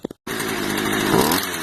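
A Stihl chainsaw engine starts abruptly after a brief pause and runs steadily close by with a buzzing, raspy drone at high idle, rising slightly in pitch before settling.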